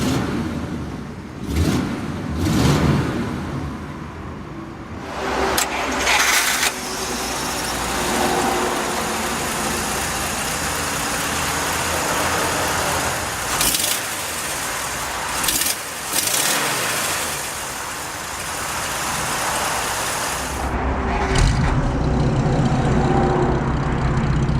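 1949 Pontiac Chieftain Deluxe 8 straight-eight engine cranking and starting with a quiet startup, then settling into a steady, smooth idle for a long stretch, with some clicks and handling noises close by.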